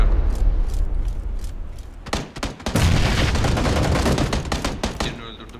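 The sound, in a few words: grenade explosion in PUBG, a video game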